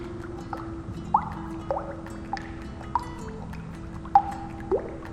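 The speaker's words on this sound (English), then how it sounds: "I like that sound. It's like dripping water." Liquid dripping while salmon ceviche is stirred, with several distinct, clear drips and small splashes landing at irregular intervals over a faint background tone.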